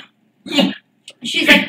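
A person speaks briefly, followed by a sharp, breathy sneeze up close.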